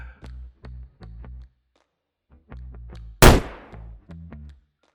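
A single sharp gunshot cracks loud and close, followed by a quick decaying tail, fired at a simulation bot amid several muffled thudding, rhythmic tones before and after it.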